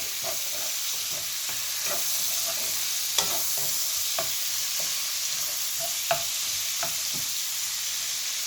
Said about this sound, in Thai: เอาหัวกุ้งลงไปเจียวนะเพื่อ เอาน้ำมันจากหัวกุ้งนะครับ